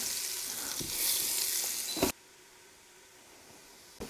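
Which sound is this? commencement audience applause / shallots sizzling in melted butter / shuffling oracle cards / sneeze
shallots sizzling in melted butter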